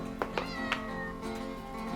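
Hungry cats meow during an early-morning 4 a.m. feeding, with three short, sharp meows in the first second over a steady background hum.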